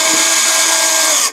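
A power tool removes screws during a major service of a Range Rover L322. It gives one loud, close, high whine that holds steady for just over a second and then cuts off, with no talking.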